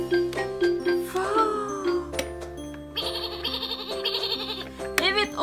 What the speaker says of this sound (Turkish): Evet, o bir kuzu sesi.